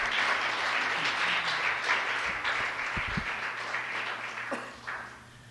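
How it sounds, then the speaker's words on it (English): An audience claps steadily at a public hearing on Guam's decolonization, a dense sustained round of applause that gradually thins and fades near the end. "let's give them a big hand of applause"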